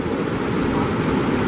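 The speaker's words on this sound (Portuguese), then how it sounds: "A água vai descendo para lá" Water pouring down from the Chico Gato reservoir in Jardim de Piranhas, a steady full rushing hiss with no pauses and no voices.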